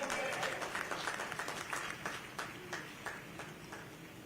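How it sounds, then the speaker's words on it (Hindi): Audience applause welcoming Amit Shah, India's Union Home Minister, at a public event in Bastar, rhythmic clapping in a steady beat across a crowd, moderately distant and fading slightly toward the end. "आप एक बार जोरदार तालियों के साथ स्वागत करें"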